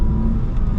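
A BMW E46 drifting sideways on a mountain road, its engine giving a loud, close, continuous rumble under load for a brief moment, with no talk.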